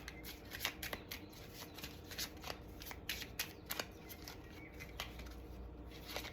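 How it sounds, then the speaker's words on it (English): Oracle cards being shuffled and pulled by hand, a quiet, close series of rapid papery riffles and flicks in an irregular rhythm. "Going to pull an oracle card here."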